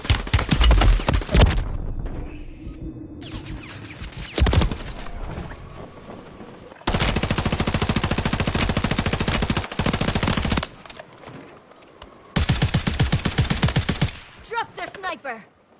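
Bursts of automatic gunfire and sharp single shots from the video game Call of Duty: Warzone, several loud sustained volleys separated by quieter gaps, close and dense.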